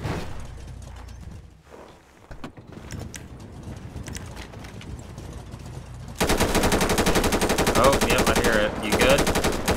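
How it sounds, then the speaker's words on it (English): Automatic gunfire in a police roleplay video game comes as a rapid, continuous, loud rattle of shots in the last few seconds. It follows mechanical clatter and the hum of a driving vehicle. "Oh! Automatic shots fired!"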